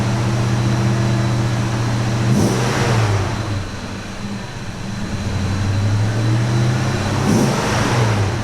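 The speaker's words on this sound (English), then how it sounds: "You can even give it a little bit of a rev here just to get things going and build up more pressure." A car engine idles and is revved twice, each rev a brief rising surge that falls back to a steady idle, heard close and alone during an oil change.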